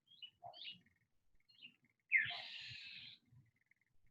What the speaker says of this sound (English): You got some noisy birds this morning.